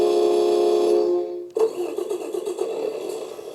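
A 1/10 scale off-road RC truck's sound unit starts up, a steady tonal electronic engine hum cutting off, then a simulated engine start settling into a rough, pulsing idle, close and alone.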